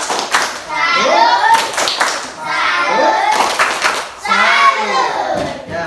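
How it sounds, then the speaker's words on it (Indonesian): A primary school class performs a rhythmic clap cheer for a group of classmates, children chanting loudly in unison between patterned bursts of clapping, close and energetic. "kita beri tepuk salut dulu untuk kelompok 1"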